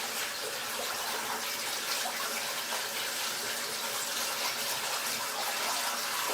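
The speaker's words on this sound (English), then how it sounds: "run some cold water in them to cool them down" Cold tap water pours steadily over strained noodles in a kitchen sink, a continuous, even splashing rush that stays close and unbroken throughout.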